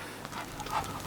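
A dog named Percy pants softly and rapidly after a walk, a faint, close, breathy rasp with a small whimper near the end and no talk over it.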